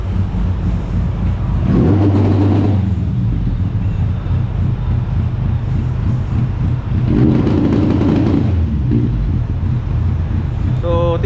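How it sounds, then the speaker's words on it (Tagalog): An S40 car engine being tuned revs hard in two loud surges, around the two- and seven-second marks, over a constant roar of idle and wind noise. "Tinutono siya ngayon, kaya siya ganyan yung rev niya."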